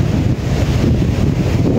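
Steady low roar of sea surf washing in, mixed with gusty wind buffeting the microphone; no clear individual wave crashes stand out.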